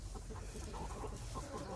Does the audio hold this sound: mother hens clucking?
yes